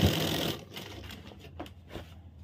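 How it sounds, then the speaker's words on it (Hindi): A sewing machine stitching the seat seam of a pair of trousers gives a brief, close burst of running at the start, then fainter scattered clicks and handling noises. "या फिर आप मशीन से भी सिलाई लगा सकते हैं"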